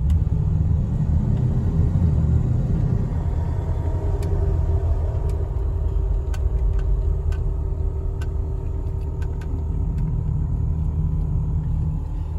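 A 1975 Ford Mustang II Ghia being driven, heard from inside as a steady low engine and road rumble with faint ticks and clicks throughout, no talking.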